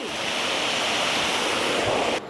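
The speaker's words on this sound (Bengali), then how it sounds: "এত জোরে বৃষ্টি" Dense, steady rush of heavy rain, a loud broadband hiss filling the whole clip without pause, cutting off abruptly near the end.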